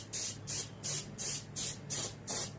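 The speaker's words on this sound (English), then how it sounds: "All my fins this way, a medium coat." Short bursts of spray paint coating the fins of a muskie fish mount, six even hisses in a steady rhythm with brief gaps, close and clear with no talking.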